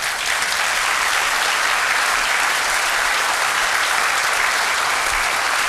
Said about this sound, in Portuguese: Dá um aplauso agora.